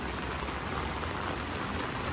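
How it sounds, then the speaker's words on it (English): Heavy rain pours steadily during flooding near a bayou and creek, a dense, even hiss of falling drops at moderate distance with no talking. "I think we've only had around 3 inches of rain, but it's come down really fast today."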